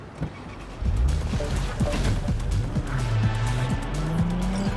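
A car is driven in the video game Cyberpunk 2077, its engine humming and revving through gear changes with a brief tire squeal, steady and up close, with no talking.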